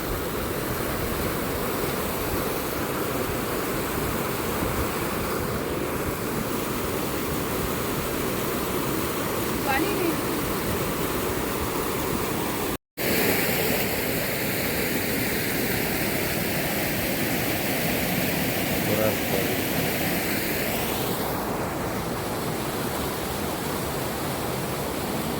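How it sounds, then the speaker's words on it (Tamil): The Siruvani river runs crystal clear near Agali and Anaikatti, its water rushing in a steady, broadband roar. The flow is close and constant throughout, with only one very brief dropout. "நம்ம ஊருக்கு போகிற சிறுவாணியாறு தான் மக்களே."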